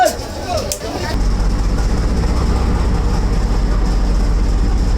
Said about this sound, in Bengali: বলতে বলতে চলে আসলো ট্রেন চাঁদপুর রেলওয়ে স্টেশনে।